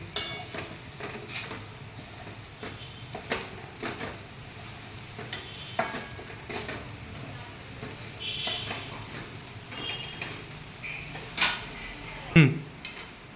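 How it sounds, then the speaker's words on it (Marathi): Semolina roasts in a pan, with a soft continuous dry sizzle and scraping stir strokes. A spoon clinks and taps against the pan now and then. "आता रवा चांगला भाजू दे."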